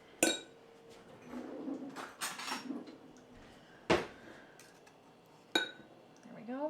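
A knife scrapes and clinks against the bottom of a container while a cabbage dressing is mixed, giving a few sharp metallic taps and short raspy scrapes spaced irregularly at close range, with quiet room noise between them.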